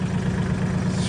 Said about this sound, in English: hopefully you can hear over the tractor